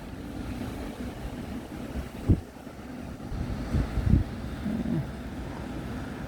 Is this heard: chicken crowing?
no